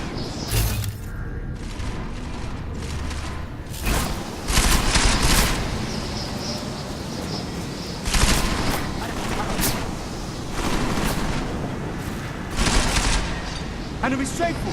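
Gunfire in Deus Ex: Mankind Divided comes in repeated bursts of shots and booms across the stretch, loud and close, with voices calling out between volleys.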